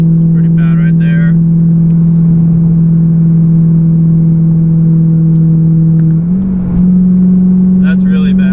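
A BMW M3 fitted with $27 mufflers cruises in 5th gear at 3,000 RPM, giving a loud, steady low exhaust drone that holds throughout, with a slight dip near the end and brief higher noises over it.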